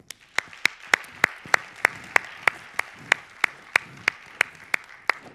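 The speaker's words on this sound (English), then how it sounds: "let's give them a round of applause" Slow, evenly spaced claps, about one every third of a second, ring out sharply at an opening keynote on the future of commerce in Monaco. They sound like a single person clapping steadily rather than a full crowd.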